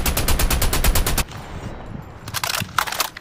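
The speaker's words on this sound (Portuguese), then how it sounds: "Tem gente lá dando bala, onde é que vocês estavam atirando?" Rapid automatic gunfire in a battle royale video game, a loud sustained burst of evenly spaced shots, then a brief lull and a few more scattered bursts nearby.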